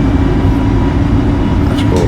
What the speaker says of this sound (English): Engine sound fantastic.